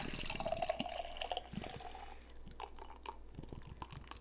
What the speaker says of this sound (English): Pour this sumbitch up.